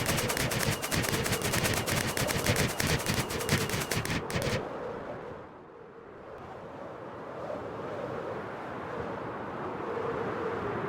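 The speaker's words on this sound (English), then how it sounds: "Now shoot your fireworks." Firework rockets fired in quick succession while gliding with elytra in Minecraft on mobile: a dense, rapid burst of crackling launches for several seconds, then a softer whooshing wind-like rush of flight.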